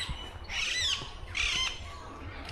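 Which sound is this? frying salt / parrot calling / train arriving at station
parrot calling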